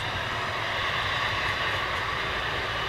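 An Ilyushin IL-76 jet aircraft at around 7,000 feet, a steady broad engine roar droning evenly and far off, with no talking.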